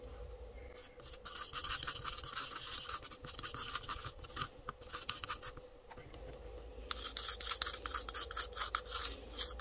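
Homemade black gel eyeliner being mixed with Vaseline, close repeated rubbing and scraping strokes in an uneven rhythm, with no voice.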